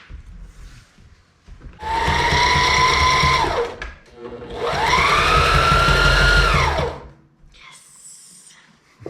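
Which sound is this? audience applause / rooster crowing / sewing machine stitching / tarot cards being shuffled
sewing machine stitching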